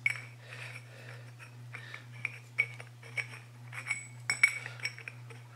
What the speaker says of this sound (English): Flare nozzle goes on one end, if I can get it to thread on.